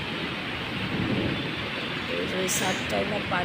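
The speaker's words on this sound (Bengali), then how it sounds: "বাতাস বাতাস হচ্ছে ঝড় হচ্ছে সাথে বৃষ্টি হচ্ছে" A Dhaka storm with rain and thunder: a continuous rush of heavy rain, rumbling thunder beneath it, and wind, all close by. A voice talks over the storm in the latter part.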